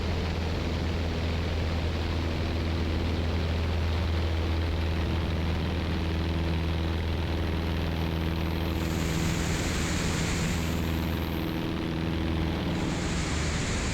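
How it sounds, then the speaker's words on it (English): A small airplane's landing gear warning horn sounds as a high, steady tone in the latter half, breaking off and returning over the constant drone of the engine in the cockpit. "There's my gear horn sound."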